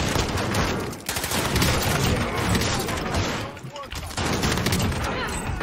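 Loud, rapid bursts of close-range shotgun fire in the Warzone video game, in quick succession with short gaps between them, up close and dominant throughout.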